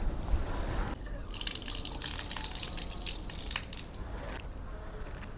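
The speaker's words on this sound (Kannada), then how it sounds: "ಇವಾಗ ಕಾಲ ಮೇಲೆ ನೀರು ಹಾಕ್ಕೊಂಡು ಹೋಗೋಣ ಒಳಗಡೆ" Water is poured over feet before entering a cave temple at Rayakote fort, a close, bright gush and splash lasting a couple of seconds before easing back to a softer wash.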